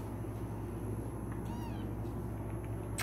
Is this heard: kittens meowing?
yes